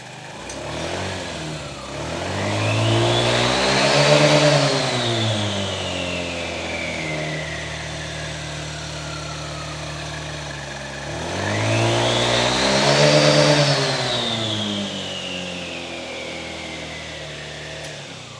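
A Honda Ruckus scooter engine runs with its CVT exposed, revving up twice in long swells that rise, peak and fall back to a steady idle, loud and close with no talk.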